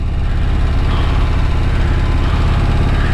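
A 2024 Harley-Davidson Road Glide CVO ST motorcycle engine idles and rumbles steadily up close, a continuous loud low throb with a pulsing vibration and no talk over it.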